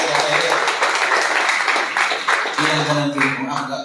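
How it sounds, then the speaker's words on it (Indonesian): An audience in a church service applauds for the children, a dense wash of clapping that carries on under someone speaking into a microphone. "Tepuk tangan bagi adik-adik."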